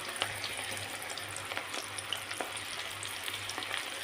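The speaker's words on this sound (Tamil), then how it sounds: "எண்ணெய் சூடாகிடுச்சு இப்போது இதை நம்ம எண்ணெயில் போட்டுடலாம் பிச்சு பிச்சு போட்டுடலாம்" Onion pakoda batter frying in hot oil, a steady close sizzle and bubbling with small crackles throughout, no voices.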